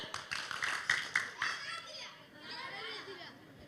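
A group of children claps hands in a counting game, with a quick run of sharp, fairly close claps followed by lighter children's voices and scattered taps.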